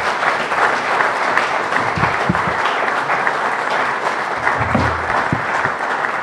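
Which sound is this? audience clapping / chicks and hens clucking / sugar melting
audience clapping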